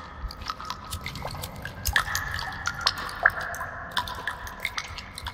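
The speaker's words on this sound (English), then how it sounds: "That fucking water's so loud, dripping shit, man." Dripping water in the video game The Forest: a run of irregular, close, wet drips and plinks over a low, grainy ambient bed, with no talking.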